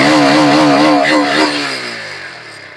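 A TVS Raider 125 motorcycle revs hard up close, its bassy exhaust thumping loudly with a rising pulse before the engine settles and fades toward idle.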